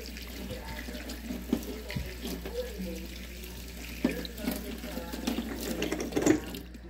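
A plant is rinsed by hand under a running kitchen tap, with steady water splashing into a sink and soft handling knocks while someone speaks quietly over it.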